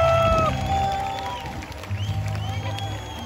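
Audience applause at a live Hindi music program, a broad wash of clapping and crowd noise that stays steady and fairly loud throughout, with some voices mixed in.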